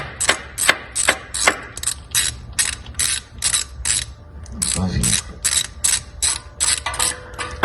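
A ratchet wrench turning out a spark plug on a Corvette C4, giving rapid runs of loud, close clicking in repeated bursts, with a brief metallic clunk midway.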